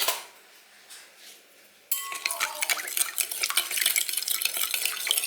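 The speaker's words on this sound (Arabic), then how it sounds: "راح نخلط هاد المكونات شويه" Salt, sugar and yeast are stirred together in a bowl: a faint scrape at first, then brisk, continuous clinking and scraping of a utensil against the bowl, close and fairly busy.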